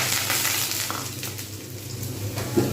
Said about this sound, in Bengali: ডালটা দিয়ে দিয়ে আমি কিন্তু সুন্দরভাবে আমি নাড়তে থাকবো একটু ভালো করে ভেজে নেবো